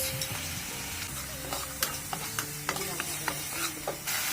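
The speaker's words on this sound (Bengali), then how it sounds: "ভালো করে কষিয়ে নেব" Spice paste for a rohu fish head curry sizzles steadily in a pan while a spoon stirs it, with sharp scraping clicks and ticks scattered over a close, continuous frying hiss.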